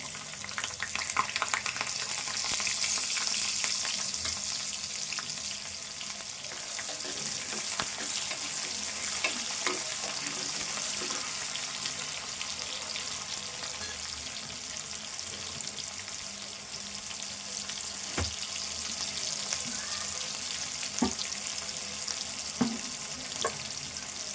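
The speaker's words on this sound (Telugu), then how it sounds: "ఈ మిరపకాయలు వేగినాయంటే ఇప్పుడు ఉల్లిపాయ వేసుకుందాము." Dried red chillies and onion fry in a pan for a prawn curry, a continuous close oily sizzle with occasional light clicks and scrapes of stirring throughout.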